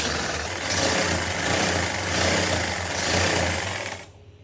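A sewing machine runs steadily while stitching pleated lehenga fabric, a continuous mechanical whir with a gentle rise and fall, stopping abruptly near the end.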